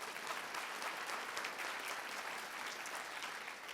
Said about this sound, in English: So if we could have a round of applause for Ivan.